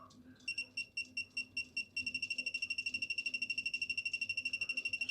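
A Suzume 3/8-inch digital torque wrench beeps as it reaches the set torque on a motorcycle: a slow series of separate pulsed beeps, then a faster continuous beeping that runs steadily to the end, close and clear.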